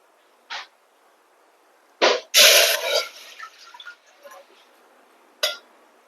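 Water is poured from a cup into semolina for rava undrallu, a bright splashing pour after a couple of sharp kitchen clinks, with brief drips and clatter following.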